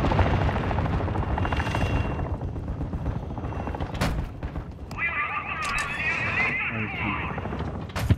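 Helicopter rotor noise in a Call of Duty match, a steady broadband thrum running under game sounds including gunfire, explosions and other effects, with players talking over it.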